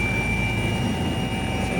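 A helicopter flies over Osaka, Japan, giving a loud, constant engine and rotor drone with a steady high whine on top, heard close up with no voices.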